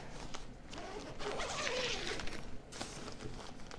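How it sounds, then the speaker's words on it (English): A zipper runs along a BattlBox tent carrying case, rasping close and fairly quiet in a couple of drawn-out pulls with a short pause between them. "Just one zipper? Yep, just one zipper."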